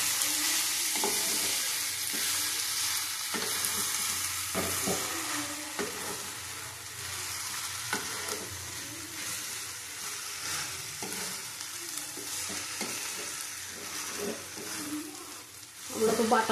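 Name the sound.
cooking and stirring taro with shrimp in a pan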